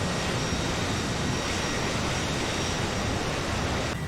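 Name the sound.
shaky Harrier jet engine sound in Microsoft Flight Simulator video game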